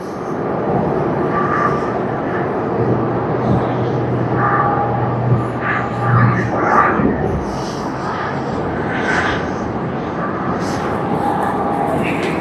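Air China airliner in Star Alliance livery at a snowy Tokyo Haneda Airport, a steady broad engine roar holding throughout at moderate loudness, with faint voices and a brief low drone partway through.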